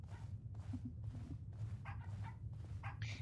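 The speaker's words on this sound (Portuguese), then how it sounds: "Cuidado com o cachorro do diabo." A dog barks repeatedly in the horror video game Pacify, a series of rough, evenly spaced barks over a low steady rumble of game ambience.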